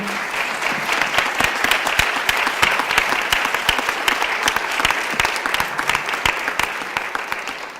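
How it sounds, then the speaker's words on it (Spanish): An audience applauds the four speakers at the close of a round-table panel on education and adolescence, with sustained, even clapping from a full hall that keeps a steady loudness for several seconds. "agradecemos a los cuatro. Un aplauso."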